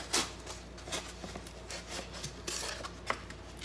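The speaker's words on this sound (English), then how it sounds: "cut through with my paring knife" A paring knife scraping and cutting through clay for a ceramic plate drop mold, heard up close as a run of short rasping, scratchy strokes with faint clinks, no talk.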